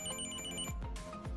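Small Bluetooth tracker tag ringing after its Find Me button is pressed, a faint repeating electronic chirp tone heard close with no talking.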